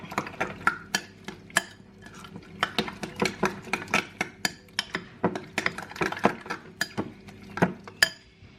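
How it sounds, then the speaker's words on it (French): Egg mixture whisked in a bowl with a utensil, giving a quick, irregular run of clinks and taps against the dish, close and moderately loud, with no talking. "On mélange le tout."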